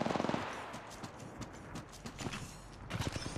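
Rapid bursts of weapon fire in the battle royale shooter Apex Legends Mobile, a quick volley at the start and another at the end, with clattering game effects and ambient noise in between.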